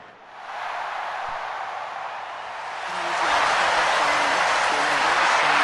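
A crowd in an arena in France booing the European Union, a broad sustained roar of many voices that swells louder halfway through and holds, with faint tonal calls poking through the din.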